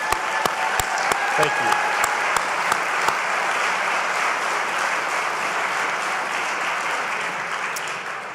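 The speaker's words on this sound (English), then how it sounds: "Big round of applause for all our veterans." A crowd at a political rally applauds for veterans, broad steady clapping with a few loud, sharp nearby claps standing out early on. The applause stays even and slowly thins, and a brief spoken remark comes through beneath it.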